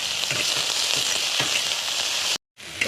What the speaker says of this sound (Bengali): মূলোগুলোকে এবার ভেজে নেব আমি